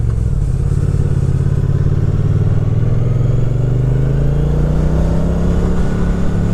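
A 2017 Triumph Street Cup motorcycle engine rises in pitch as it revs and accelerates, a steady close thrum heard from a helmet microphone with wind rumble and no talking.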